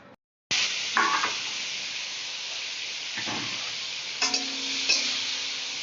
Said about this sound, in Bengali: এবারে ভাজবো ফুলকপি